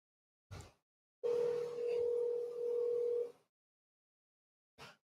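A phone line's steady dial tone sounds for about two seconds after the line is picked up, framed by brief clicks before and after.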